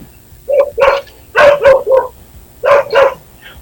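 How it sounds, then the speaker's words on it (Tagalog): Several dogs bark in short loud bursts, close by, in three quick clusters of two or three yaps each with brief pauses between, alone without talk. "tumatahol yung mga aso niya"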